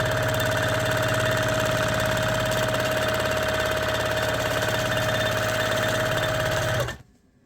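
A quilting sewing machine running fast in manual mode, a loud close mechanical hum with a busy rattling stitch rhythm that holds steady for several seconds and then stops abruptly.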